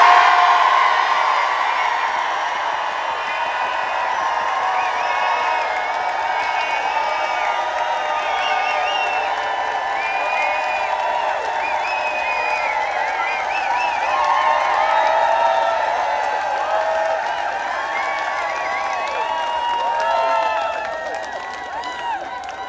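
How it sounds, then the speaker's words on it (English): Crowd at an outdoor rally in Dublin cheering and whooping as loudly as possible, a dense sustained roar of many voices lasting over twenty seconds before fading at the end. "more irritating than us speaking is us cheering"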